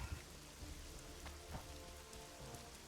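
Steady rainfall in The Witcher 2 video game, an even, close wash of drops pattering on surfaces with a few sharper splashes standing out, continuous throughout.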